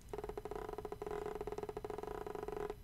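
Steam Controller haptic feedback as a finger slides over the trackpad: a steady, faint buzzing hum with rapid rhythmic ticking pulses, close and alone, stopping abruptly near the end.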